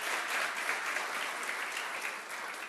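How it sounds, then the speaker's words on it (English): Steady applause from an audience at a city press conference honoring the mayor, an even, continuous patter of many hands heard alone at moderate distance. "So if you would, please honor him with another round of applause for what he's done"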